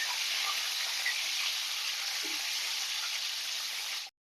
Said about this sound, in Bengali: আর ডিমটা বেশি ভাজবো না, হালকা ভেজে নেব।